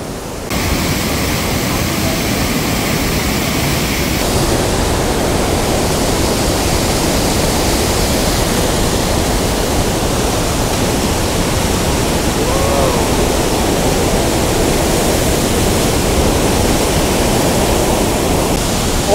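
A large waterfall in Norway's Geiranger fjord roars as a constant, dense rush of falling water, loud and unbroken throughout, with a faint brief tone partway through and no talking.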